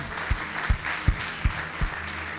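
A church congregation claps during a Spanish-language service: a handful of evenly spaced, soft claps in a steady rhythm over a quiet room.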